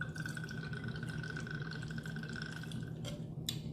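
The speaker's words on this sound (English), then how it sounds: "We're gonna give it a 2-ounce pour." Gin is poured into a cocktail shaker, a faint steady trickle lasting a few seconds with a thin ringing tone, ending with soft clinks of glass and metal.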